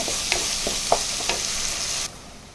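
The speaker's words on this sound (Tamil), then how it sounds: "நல்லா எல்லாத்தையும் மிக்ஸ் பண்ணி வதக்கி விடுங்க" Onions sautéing in a pan for a radish chicken kurma, a steady hiss of frying with a few light scrapes of the stirring spoon, close and clear with no talk, cutting off abruptly near the end.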